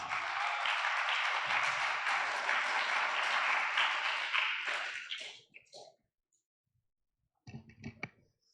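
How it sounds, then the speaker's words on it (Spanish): Sustained clapping from a church congregation for a pastor fills the room for about five seconds, then fades out; after a short silence, a few scattered claps and taps return. "aplauso al pastor Torres, hermanos."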